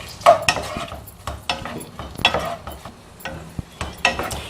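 Large onions dropped into melted butter in a pan, with spatula clinks and scraping against the metal at irregular intervals over a low, faint sizzle.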